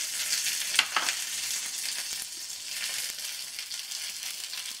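Mustard seeds, chillies and curry leaves with asafoetida sizzle steadily in hot oil as a tempering, a close, continuous bright hiss with a few small pops and crackles, no talking.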